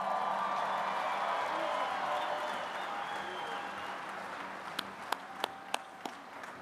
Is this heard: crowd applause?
yes